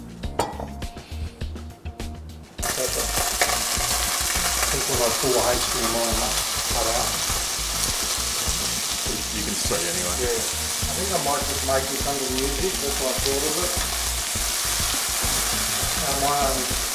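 Jamon-wrapped flathead fillets fry in olive oil in a pan, a loud, continuous close sizzle with occasional clinks of utensils against the pan, after a quieter opening moment.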